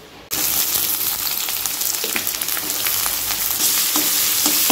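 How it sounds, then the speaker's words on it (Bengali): Food sizzles and crackles steadily in a hot wok (kadai), a loud continuous frying hiss with occasional stirring scrapes, no voices. "চলো এটা ভেজে নিই"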